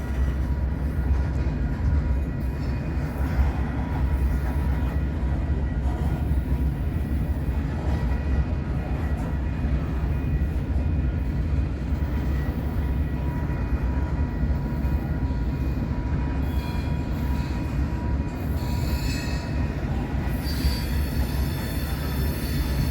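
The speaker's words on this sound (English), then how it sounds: "Let's enjoy this westbound corn drag." A westbound freight train of loaded corn cars rolls past in a steady, continuous low rumble with faint wheel squeal near the end, and no talking.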